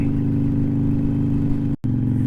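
A loud, steady Harley-Davidson Iron 883 motorcycle exhaust drones with a deep throbbing rumble, briefly cutting out near the end before resuming.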